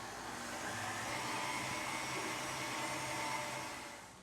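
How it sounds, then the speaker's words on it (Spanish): An electric mixer beats butter cookie dough with vanilla and a pinch of salt, making a steady close whirring hum that holds for about four seconds and then eases off at the end. "Y voy a batir a que todo esto se vuelva a unir."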